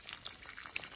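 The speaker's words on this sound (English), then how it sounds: "Got a jet of water spinning this" A jet of water drives a spinning platter that turns on a broken electric motor housing used as a bearing, giving a steady close hiss and spray of rushing water with no pauses.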